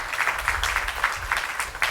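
An indoor audience at a literary lecture gathering claps steadily for both speakers, a dense, moderately loud patter of many hands with no talking over it.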